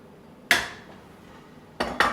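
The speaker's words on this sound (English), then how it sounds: "And I'm gonna mix all this." A utensil clanks sharply against a metal pot as flour is stirred into boiling milk with sugar and salt for churro dough, one strike followed by two quick knocks a moment later, close and with no talking.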